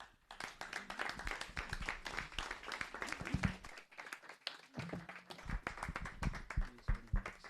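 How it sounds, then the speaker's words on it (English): Church congregation clapping at a Sunday service as a Korean choir comes up for the finale, a dense run of many hands with a short lull partway through, fairly close and steady. "Please give them a warm round of applause."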